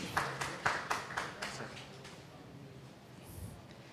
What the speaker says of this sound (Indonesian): Tepuk tangan untuk Bapak David.